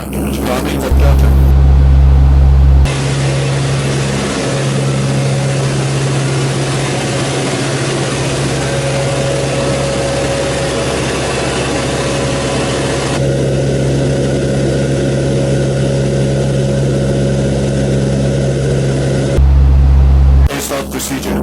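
Four-engine turboprop start aboard a Lockheed Hercules L100 heard from the cockpit, a steady loud drone with a persistent low hum and a tonal whine building under crew talk over the intercom, continuous for the whole span.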